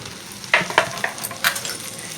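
Chopped tomato hits onions already browned in a pan, giving a few sharp crackling bursts over a steady low sizzle, close by, with no talk.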